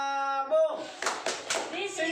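Group of trainees clapping a rhythmic cheer pattern at a training session, several sharp bursts of claps following a spoken voice, close and fairly loud.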